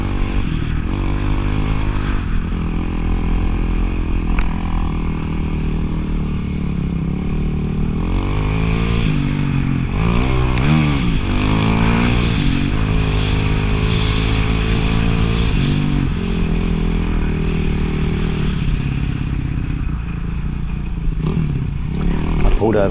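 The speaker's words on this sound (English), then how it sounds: "I was riding my CRF 250X and my son was riding my old CRF 230F" Honda CRF dirt bikes, a CRF 250X and an older CRF 230F, ride through mud on a trail, their engines droning loudly and continuously with repeated revving swells and throttle changes throughout.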